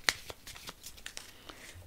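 A deck of cards is shuffled in a few soft, papery flicks and taps, close and quiet, without talk.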